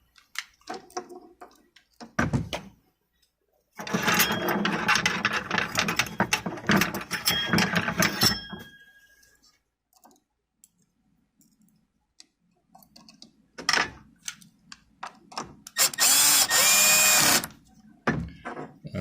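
Power driver running a screw into a G&G GTP9 airsoft pistol during reassembly, a sustained close whirring burst of about five seconds, then quieter clicks and a second short whir near the end.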